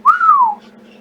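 A single short whistled note, gliding up then slowly down, clear and close, lasting about half a second before fading out.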